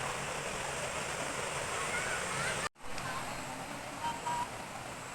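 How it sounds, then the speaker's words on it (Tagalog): Cold mountain water pours down from a waterfall where many people are swimming, a steady broadband rush that holds through the clip with one brief dropout midway and faint voices underneath. "Lagaslas ng tubig na malamig. Yan ho ay galing falls."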